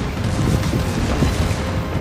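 Heavy battleship main-gun artillery fire from the Nagato in World of Warships, a dense continuous rumble of booms and blasts at steady loudness with no clear gaps, no talk over it.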